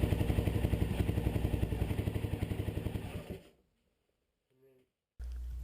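A single-cylinder 600cc Honda XR600R motorcycle engine idles while warming up, with a steady, rapid pulsing thrum that fades out, followed by a brief faint sound and then a loud low rumble.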